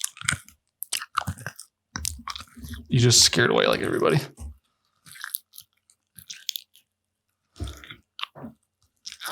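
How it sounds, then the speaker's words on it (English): Someone chews crunchy food right up against a microphone, producing loud, close crunches and wet mouth clicks in bursts, with someone talking in between. "Stop chewing in the microphone."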